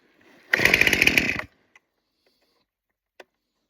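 A chainsaw on choke, used for cutting firewood in winter, sputters briefly for about a second before dying, followed by a couple of faint clicks.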